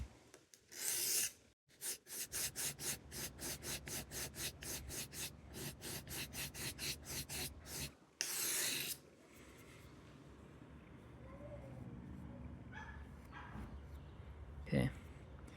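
Grinding to restore the broken point and edge of a knife, a rapid series of regular rasping strokes on an abrasive, then a burst of continuous grinding followed by quieter handling noises and a brief scrape near the end.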